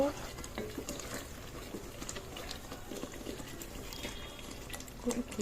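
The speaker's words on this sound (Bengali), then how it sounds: "মশলাটা কষিয়ে নেব" Spices sautéed and stirred in a pan for a birthday meal, giving a continuous sizzle with scraping and clattering strokes, faint voices murmuring behind.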